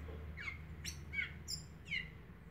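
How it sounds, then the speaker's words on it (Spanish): A small bird chirps at a window in the morning, giving five short, bright, downward-sweeping tweets spaced about half a second apart over a low indoor hum, with no talking. "Este pajarito viene todas las mañanas a despertarme."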